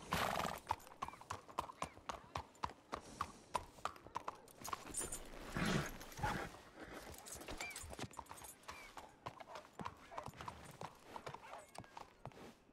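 Horse hooves clip-clopping in the Wild West game RedM, a steady run of sharp, close hoof strikes with a brief neigh partway through and faint background ambience.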